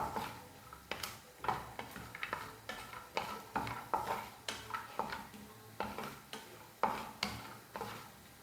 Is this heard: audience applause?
no